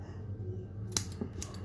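Scissors trimming cotton wick for a Wotofo Profile atomizer build make two or three quick, close snips over a quiet low hum, with no voices.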